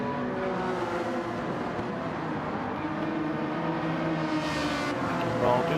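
Honda NSX race cars in a racing video game, a steady buzzing engine drone that holds throughout, with a rising surge from a passing car near the end.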